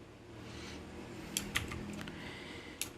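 Light typing on a computer keyboard while writing a Python program, a few soft clustered keystrokes and clicks close by over a faint room hum, no talk.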